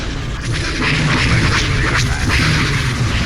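Starship weapons fire in the space battle game Star Wars: Empire at War, dense booming blasts and bursts layered over a loud continuous rumble.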